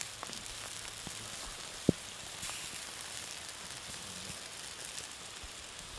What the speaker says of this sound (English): It'd be nice if it wasn't raining